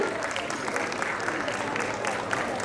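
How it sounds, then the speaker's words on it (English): A crowd applauds steadily at a prize distribution and closing ceremony, with continuous dense clapping filling the hall and a voice faintly audible underneath. "I need a huge round of applause from all of you"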